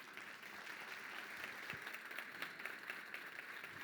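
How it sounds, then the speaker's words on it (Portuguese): An audience at a conference panel gives steady, fairly distant applause, a soft continuous wash of many hands clapping. "Há umas palmas."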